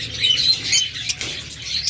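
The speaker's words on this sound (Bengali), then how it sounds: "এখানে আরেকটা চমৎকার জোড়া লাভবার্ড রয়েছে" A pair of lovebirds gives short, bright chirps and tweets close by, several quick calls in under two seconds with a faint rustle of wings.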